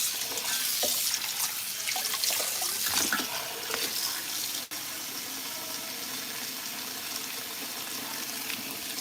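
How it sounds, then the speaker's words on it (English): Water pours steadily from a tap into a colander of ground turkey soaking in a lemon and water wash, a continuous soft splashing rush with no talking. "we are going to wash our ground meat or soak our ground meat into that wash"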